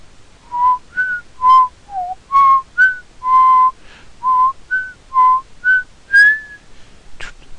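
A single person whistles the Jeopardy theme tune alone, a clear melodic run of about a dozen short pitched notes in steady rhythm, close and fairly loud, with no talking over it.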